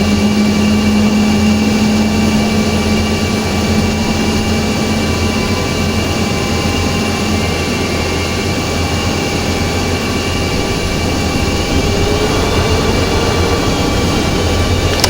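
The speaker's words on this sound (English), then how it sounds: "we're going to start the left engine" The engine of an F/A-18E jet spools up during start-up in a flight simulator game, a loud continuous turbine whine and roar with steady high tones that runs unbroken for about fifteen seconds.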